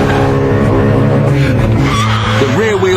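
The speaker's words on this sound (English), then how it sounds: "The rear wheels light up like Catherine wheels because there's nothing controlling that mighty engine" 2007 BMW M3 launching with traction control off, rear wheels spinning: loud high-revving engine with rising harmonic tones and tire squeal near the end, with someone talking over it.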